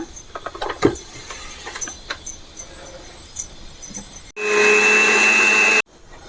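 A kitchen mixer grinder whirs steadily as it grinds coconut with water, a loud continuous motor drone of about a second and a half that cuts off abruptly, following scattered small clicks and handling noises.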